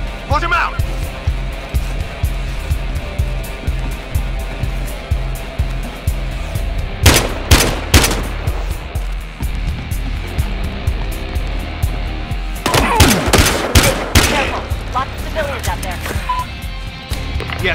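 Gunfire erupts in a Battlefield Hardline shootout, loud sharp bursts of shots in two clusters over a continuous noisy background with voices talking.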